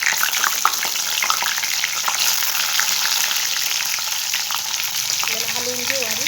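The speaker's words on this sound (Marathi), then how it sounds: "कारली यामध्ये सोडू." Bitter gourds hit hot oil with a mustard seed and cumin tempering, raising a loud, steady sizzle that holds evenly throughout with faint stirring clatter near the end.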